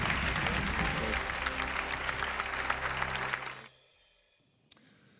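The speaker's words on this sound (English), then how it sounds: "Stand up and cheer for her right now." Audience standing and applauding at a talk show taping, loud dense clapping that fades out after a few seconds into near silence.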